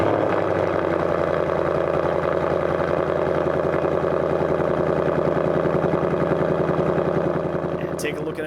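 Ford Mustang S550 engine running with an aftermarket H-pipe installed, a close, loud, steady idle rumble with a rhythmic low pulse that holds throughout and eases slightly at the end, with speech in the clip.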